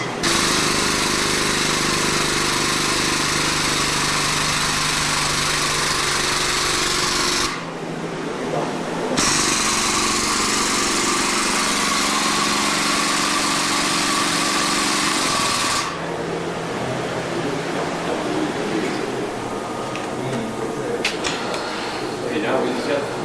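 A NIM-COR roll restorer for damaged paper roll cores, run by an air pump, makes loud, steady pneumatic machine noise that cuts out briefly twice, with a harsh rattling, hammering texture throughout.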